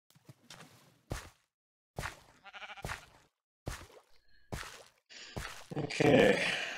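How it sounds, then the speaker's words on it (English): Several short sheep bleats from Minecraft sound one after another with gaps between them, clear and close, followed by a burst of rustling or whooshing game noise near the end. "let's get some more sheep."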